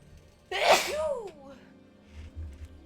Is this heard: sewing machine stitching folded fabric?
no